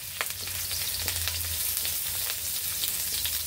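Ginger (luya) sizzles and fries in a pan for Bicol express, a dense, close crackling hiss with small pops and a low hum underneath.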